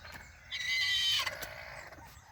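A rooster crows once nearby, a drawn-out strained call in the open air with faint background noise around it.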